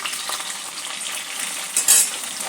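Potato and cauliflower pieces fry in a pan for a cauliflower curry, giving a dense, close, even sizzle with a brief brighter burst near the end and no talking.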